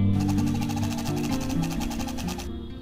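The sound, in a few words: sewing machine top stitching vinyl and fabric pouch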